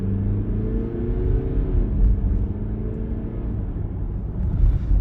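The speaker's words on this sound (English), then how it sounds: "we have a chance to experience how the car pulls away" A 2023 Mercedes-Benz GLE 300d diesel with a 9G-Tronic gearbox pulls away from a stop, its low engine rumble and drone building steadily as heard from inside the cabin.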